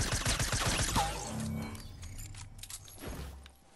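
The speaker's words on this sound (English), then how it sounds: "You guys stop shooting each other over there?" Dense, rapid bursts of gunfire from a Fortnite match in a suppressed-weapons mode fill the opening second and a half, then thin into scattered shots and clatter that fade toward the end.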